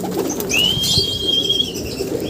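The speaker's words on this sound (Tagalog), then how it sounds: "Parating na tayo. dumating na yung mga ibon niya." Racing pigeons arriving home at a loft, with close soft cooing and a brief chirp over light outdoor background noise, no talk.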